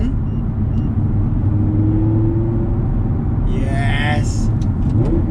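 An Audi R8 V10 Plus fitted with a new exhaust gives a loud, steady engine rumble close by. Its pitch climbs in a smooth rev and holds throughout, with a faint voice at times.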